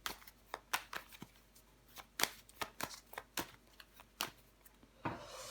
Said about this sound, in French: On va recouvrir les cartes.